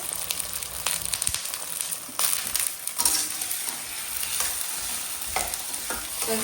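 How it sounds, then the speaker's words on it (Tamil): Tomato and brinjal sauté in oil in a pan, a steady close sizzle with repeated scraping stirs of a spatula running throughout. "கத்திரிக்காயும் எண்ணெயிலே நல்லா வதங்கி வரும்"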